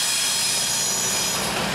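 A short Norfolk Southern freight train led by a single GE locomotive passes through Marion, Ohio, giving a loud, steady roar of wheels and rail noise with no breaks.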